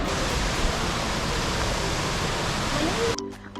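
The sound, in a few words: waterfall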